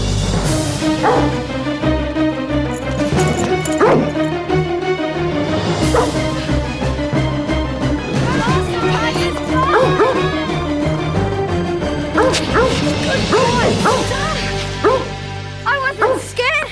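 A dog yips and whimpers with short barks over a busy music score, with people talking throughout.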